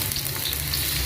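Onions and garlic sautéing in a pan for pork mechado, a steady dense sizzle running unbroken and fairly loud throughout the brief moment, with no voices.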